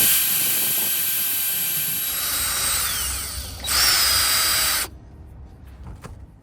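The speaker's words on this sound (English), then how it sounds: "Anytime you drill into the metal of the van" A power drill bores a small hole into the sheet metal of a van body. A loud, close, high whine holds steady, then winds down in pitch, revs up again in one short burst and cuts off abruptly. No one talks.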